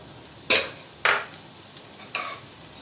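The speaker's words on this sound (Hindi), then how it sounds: "जो मैंने प्याज बारीक काटी थी बिल्कुल बारीक है, आप देखिए, ये मैं इसमें फ्राई करूँगी।" Finely chopped onion fries in oil, with three short sizzling bursts as it is stirred, fading quickly into a faint background hiss.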